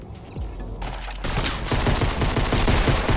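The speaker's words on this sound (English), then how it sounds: "Why is he shooting me" Rapid gunfire bursts in the battle royale video game Fortnite, loud and continuous with dense repeated shots building over a few seconds, no voices.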